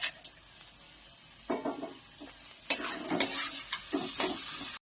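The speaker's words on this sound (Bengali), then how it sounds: "এবার এই যে এঁচড়টা, আলুটা আর এই বাদামটা দিয়ে দিচ্ছি বন্ধুরা" Jackfruit, potato and peanuts sizzle in spiced masala in a pan, with intermittent scraping stirs over a continuous close frying hiss and no talking.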